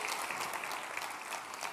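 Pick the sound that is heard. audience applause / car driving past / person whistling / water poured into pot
audience applause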